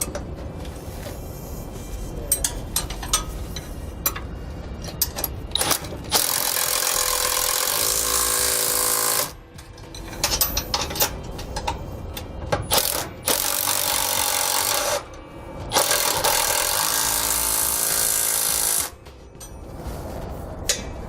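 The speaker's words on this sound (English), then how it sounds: "I'm going to come back with a 9/16 socket and wrench and snug everything up and make sure it's secure." Bolts on a Timbren rear suspension enhancement system are snugged up with a 9/16 socket and wrench: bursts of ratcheting and scraping metal work come close and loud, separated by short quiet pauses.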